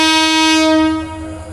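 The Nasirabad Express, a local train from Feni to Chattogram, sounds a loud, sustained horn as it pulls out of Bhatiari station, the blast fading near the end.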